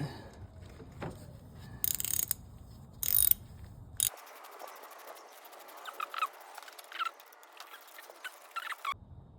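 A ratchet tightens a spark plug on a 2011 Toyota Corolla. Quiet clicking and mechanical ratcheting come in irregular bursts, with a few sharper clicks and light rattles over low background noise.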